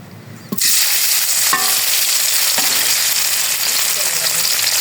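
Paneer drops into hot oil in a pan and a loud, steady sizzle of frying starts, holding close and constant, with a few faint clinks of a utensil.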